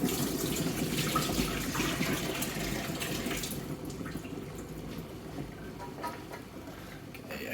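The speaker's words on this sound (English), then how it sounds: "Then I'm going to go and drain these chips in the sink while the kettle's boiling." Boiled chips being drained in a kitchen sink, a broad steady rush of pouring water and splashing that is loudest at first and then settles into a softer trickle, with no talking.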